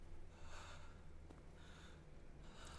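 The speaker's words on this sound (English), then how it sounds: "Motherfucker's breathing in my ears." A character in the anime Chainsaw Man breathing heavily, with rough, rhythmic snorting gasps repeating about once a second, close and fairly quiet, with no talk.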